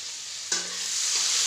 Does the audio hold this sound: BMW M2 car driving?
no